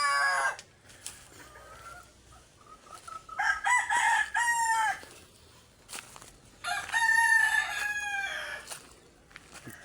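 Rooster crowing in a backyard flock where a hen is about to go broody, two long cock-a-doodle-doo calls close by with scattered clucks and clatter between them.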